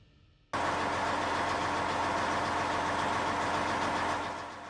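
The turbine engine of an M1 Abrams tank starts up abruptly and settles into a loud, steady, broadband roar with a faint whine, close by, easing slightly at the end, with no talking.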